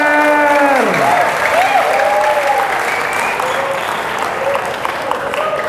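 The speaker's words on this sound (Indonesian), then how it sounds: "Tepuk tangan buat TKR." A large school audience applauds loudly and steadily for a vocational department, with a few voices shouting and cheering over the sustained clapping throughout.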